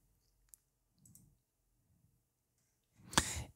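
A computer mouse clicking while filling out an online referee recertification form, a few faint, sparse clicks in a quiet room ending with one louder, sharper click.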